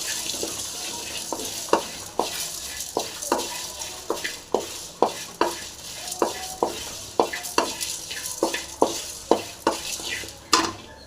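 Masala for crab soup is stir-fried in a pan: a spoon scrapes and stirs in a steady rhythm of strokes over a continuous loud sizzle, close up and without talking.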